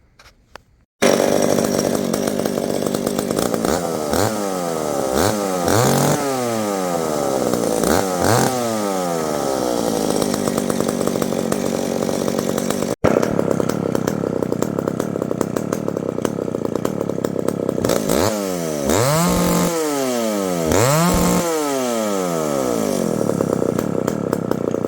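A McCulloch Pro Mac 60 chainsaw fitted with a longer Husqvarna guide bar runs loud and close, revving up and down repeatedly in rising and falling sweeps with a brief cut near the middle.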